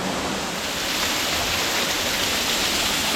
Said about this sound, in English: This is the biggest waterfall I've seen here yet in terms of volume.